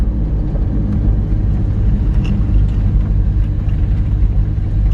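Steady low rumble of a 1968 Chevrolet Corvette C3 V8 engine through a brand new exhaust while driving, a continuous close, loud drone with no breaks.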